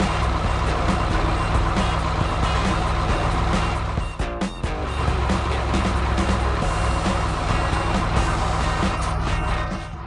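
Cartoon cargo truck working in a warehouse yard, with a continuous loud engine drone and repeated reversing beeps that pause briefly midway before resuming.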